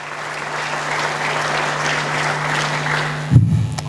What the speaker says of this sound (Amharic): እስቲ ለራሳችሁ ደመቅ አድርጋችሁ አጨብጭቡ።